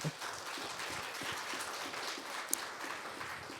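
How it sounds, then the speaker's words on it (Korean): Applause from a conference audience for a panel discussant at a forum on East Asian welfare cooperation, a fairly faint, steady wash of clapping across a hall with one sharp peak near the end. "토론을 해주신 우리 총연상님께 뜨거운 박수 부탁드리겠습니다"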